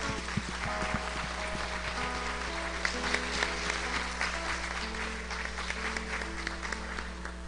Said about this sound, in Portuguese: Vamos aplaudir a Jesus.